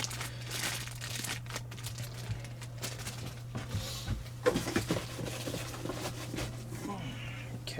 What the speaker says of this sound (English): I'm going to go ahead and wrap this one back up